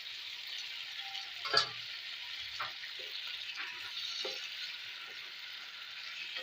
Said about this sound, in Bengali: আমি এবার এর মধ্যে দিয়ে দিচ্ছি টমেটোরের পেস্ট